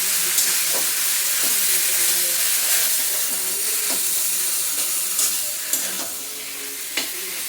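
A pan of ginger and green chilli paste with sugar, cooking for a Bengali poppy-mustard Malabar spinach dish, is stirred while it fries. The sizzle is steady and close, with scraping strokes of the spoon and a few sharper clinks, and no one talks.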